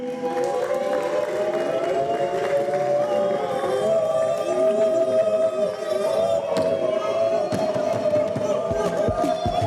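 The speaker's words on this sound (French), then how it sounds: "Escondé, on l'applaudit." An audience at a Congolese improvisational theatre show applauds and cheers the referee, a continuous wash of clapping and shouting with a voice carrying over the crowd.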